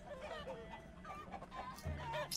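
Clucking chickens from a chicken army in the Totally Accurate Battle Simulator video game, a busy layered flock of cackles with game noise beneath, steady and moderately loud throughout.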